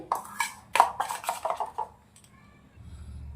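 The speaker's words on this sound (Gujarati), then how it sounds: "તો સરસ મજાનું આવી રીતે આપણે ફેટી દેવાનું છે" A sweet bread mixture whisked briskly in a bowl, with a fast run of close clinking, scraping strokes of metal against the bowl that stop after about two seconds, leaving faint room noise.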